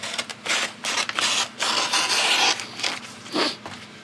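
Scissors cut through a 24-inch-wide roll of thermal adhesive sheet in several quick, close snipping strokes with short pauses between them.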